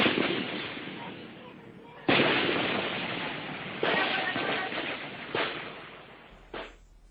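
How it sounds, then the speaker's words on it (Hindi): Rifle gunfire in news footage of a Naxal attack in Chhattisgarh, India: four or five sharp, loud cracks spaced a second or two apart, each trailing off into a long echoing decay outdoors. "उनकी राइफल से निकली गोलियों की जो आवाजें थीं वो भी आपने उन तस्वीरों में देखी थी और सुनी थी"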